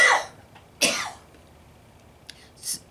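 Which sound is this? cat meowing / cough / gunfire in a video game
cough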